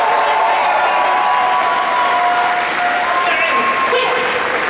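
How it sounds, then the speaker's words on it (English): A panel crowd at the 2015 Calgary Expo applauds Jessica Nigri, loud, dense and unbroken clapping with cheering voices mixed through it. "Put your hands together for the lovely Jessica Nigri."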